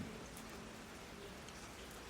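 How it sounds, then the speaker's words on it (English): Soft spring rain falls steadily in Dole Breton, a continuous, even hiss of drops with no talking. "all you can feel is the soft spring rain"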